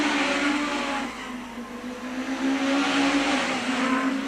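National Hot Rods racing cars roaring around the track at Arlington, a sustained buzzing engine note that swells and fades as cars pass, with faint tyre noise and no voices.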